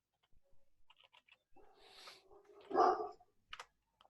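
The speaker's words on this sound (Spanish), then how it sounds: "son los perros que se pusieron en concierto" Dogs barking in the distance near a home terrace, a few scattered faint barks and whimpers with one louder bark in the middle, sparse and far off amid quiet.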